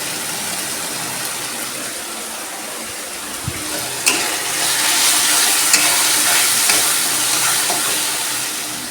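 Spices sautéing in oil for a pabda fish curry, a loud steady sizzle filling the whole stretch and swelling stronger midway, with occasional spatula clicks against the pan.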